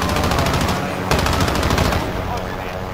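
Rapid bursts of gunfire shot into the air, dense and loud, with overlapping shots running continuously and a sharper blast near the middle, mixed with shouting voices.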